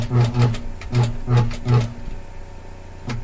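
Coverhem sewing machine top-stitching fold-over binding onto a leopard-print top, running in five quick even bursts with short pauses, then a softer hum and one final brief burst, close and alone.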